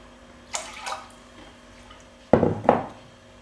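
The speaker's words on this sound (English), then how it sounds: "I cover it with about 2 centimetres of water." Water is poured over rice in a cooking pan in two short bursts, a brief splash early on and a louder, closer gush near the end, with quiet kitchen background between.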